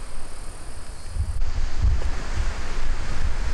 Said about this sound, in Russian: И вот он пляж сразу.